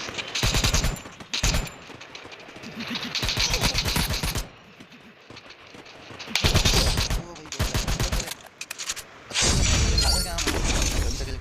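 Rapid bursts of automatic gunfire from a video game crackle in several loud volleys separated by short pauses, with a voice faintly underneath.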